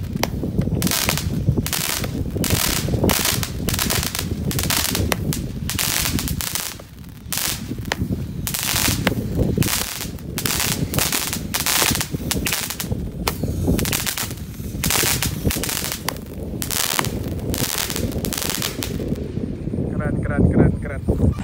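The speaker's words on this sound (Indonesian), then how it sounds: "Terima kasih sudah mengikuti menyalakan mercon mini cake hari ini." A rapid barrage of 81-shot mini cake firecrackers goes off after evening Ramadan prayers, dozens of sharp cracks and pops firing in a dense, steady string for over twenty seconds, loud and close with only brief uneven gaps.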